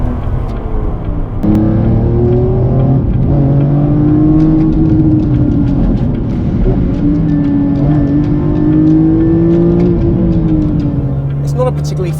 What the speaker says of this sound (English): Listen to that carbon airbox and that raspy exhaust.